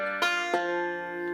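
A banjo picks an alternating thumb roll from the bluegrass tune "Are You Washed In The Blood", with two bright plucked attacks ringing into sustained open-string tones. The notes sound close and clear, with no voice.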